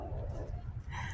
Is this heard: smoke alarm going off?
no